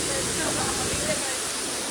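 Sirimane Falls near Sringeri, swollen with water after rain, gives off a close, loud, continuous rushing roar that stays steady throughout.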